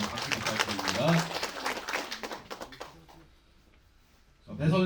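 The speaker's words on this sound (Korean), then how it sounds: "여러분 박수 부탁드립니다" Guests at an election campaign office opening ceremony clap together in a mixed burst beneath a speaker's amplified voice, fading into quiet before talk resumes.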